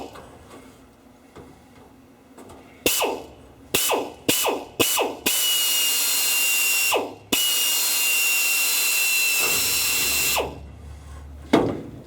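A small power drill drills rivet holes on a Sonex aircraft build, whirring in several quick bursts, then running in two long, steady stretches, loud and close, with brief pauses between.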